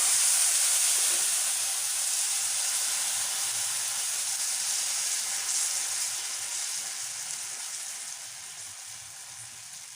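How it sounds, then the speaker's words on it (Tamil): Oil sizzles on a heated dosa pan (tava) with a steady, loud, close hiss that slowly fades a little over ten seconds, with no voices. "தோசை சட்டி காய வச்சுருக்கேன், கொஞ்சம் எண்ணெய் தடவிக்கலாம்"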